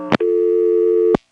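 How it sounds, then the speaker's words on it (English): A telephone busy tone from an NX1-E switch in a 1970s Vanceboro, North Carolina exchange sounds as one steady, close, buzzing tone lasting about a second, bracketed by sharp line clicks at its start and end. "you usually drop to the default busy or reorder"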